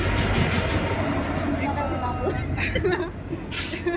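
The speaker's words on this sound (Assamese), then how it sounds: "এইখন আহি পাই গ'লহি আমি যাবলগীয়া ট্ৰেইনখন" A train rumbles in with low, steady mechanical noise, wheels clattering faintly, while a crowd murmurs and people talk nearby.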